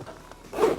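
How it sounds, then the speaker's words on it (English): A single quick zip closing a compartment on a Level8 luggage bag, a short close rasp rising at the end. "So once you guys are done, you guys can zip it back up to close it back up."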